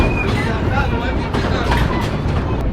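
A passenger train rolls along its rails, a steady, dense rumble with faint clicking, heard from inside the carriage. Voices chat over it throughout.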